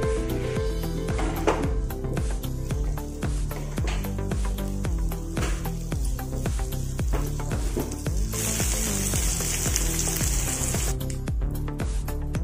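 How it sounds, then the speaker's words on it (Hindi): Sliced onions sizzling and frying in hot oil in a pan, a loud steady crackle with rhythmic stirring scrapes running throughout, and a brighter hiss swelling toward the end. "अच्छे से इसको भून लेंगे थोड़ा कलर आने तक।"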